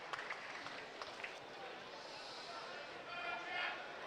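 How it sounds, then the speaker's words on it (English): Crowd applause ripples around the ground at a York Knights versus Batley Bulldogs rugby league match, a steady wash of distant clapping that swells slightly near the end, with a commentator's voice faintly underneath. "that fabulous round of applause is for Akuma Tai"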